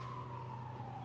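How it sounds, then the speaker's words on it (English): An ambulance siren wails faintly in the distance, a steady drawn-out tone over low background rumble. "We got some, looks like ambulances."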